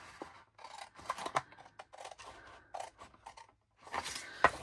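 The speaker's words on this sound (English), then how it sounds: "I'm going to cut on the opposite side of the fold line" Scissors cut paper along a fold line for a craft project, with a few quiet, close snips and scrapes separated by short silent gaps.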